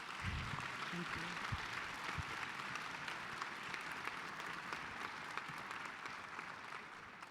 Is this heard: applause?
yes